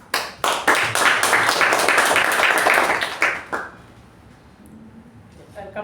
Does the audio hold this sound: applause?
yes